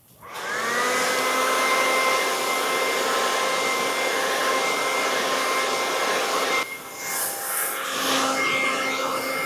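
A hair dryer blow-drying a curly human hair half wig switches on and runs as a steady, loud whine with a whooshing airflow, its tone dipping briefly as the nozzle moves near the end.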